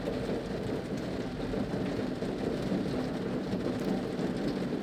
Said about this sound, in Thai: ตอนนี้ฝนก็เริ่มโปรยปลายมาเหมาะเจาะกับสวนนี้พอดี